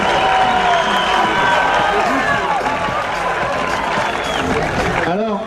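Spectators at an international under-21 France–Spain tournament applaud and cheer in a steady wash of clapping, while an announcer talks over the crowd throughout.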